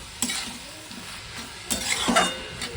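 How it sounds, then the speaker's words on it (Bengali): Food sizzles in a pan while being stirred, with scraping bursts of stirring at the start and a louder stretch later, no talking. "টমেটো দিয়ে একটু নাড়াচাড়া করে নেব"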